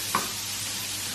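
Potatoes fry in butter in a pan that is not ideal for them, giving a steady, close sizzle throughout, with one brief clink of stirring near the start.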